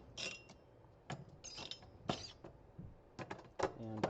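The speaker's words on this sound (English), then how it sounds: "just undo these screws in kind of a cross pattern" Screws being undone on a server CPU heatsink with a screwdriver, giving scattered close metallic clicks, ratcheting and small scraping sounds in short irregular bursts, with a voice speaking briefly near the end.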